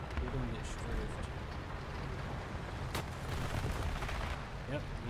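P-51 fighter plane strafing in a video game: a dense, continuous rattle of gunfire and explosion-like rumble with a sharp burst near the middle, loud and busy throughout, with voices talking over it.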